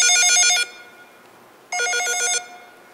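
Telephone bell ringing in two loud, clear bursts of rapid electronic trilling, each lasting a little over half a second, separated by a pause of near silence.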